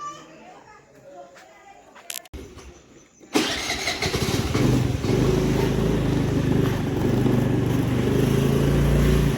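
A motorcycle at a gate at night starts abruptly after some quiet shuffling, then settles into a loud, steady engine rumble close by, with some talk in the background.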